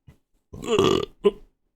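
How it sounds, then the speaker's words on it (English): A single loud, drawn-out burp rumbles for about half a second, followed by a shorter second belch, with silence around them. "I think I'm going to burp."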